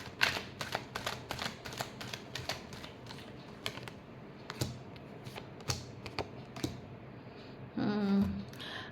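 Tarot cards are shuffled in quick bursts of dry, crisp riffling and tapping, close and fairly quiet, followed by a brief louder flurry near the end.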